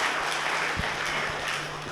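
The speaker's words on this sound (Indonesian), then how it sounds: "Terima kasih, tepuk tangan untuk panjenengan." Audience applause at a Banser basic training session in Turen, a brief continuous wash of clapping heard up close with a couple of louder individual claps.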